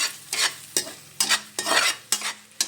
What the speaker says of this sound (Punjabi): ਬੇਸਨ ਨੂੰ ਵੀ ਨਾਲ ਹੀ ਅਸੀਂ ਭੁੰਨ ਲਵਾਂਗੇ ਚੰਗੀ ਤਰ੍ਹਾਂ